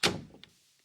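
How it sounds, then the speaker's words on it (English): A door being closed with a single solid thunk and a brief decaying rattle, followed by a faint click, close by and with no voices. "And please close the door on your way out."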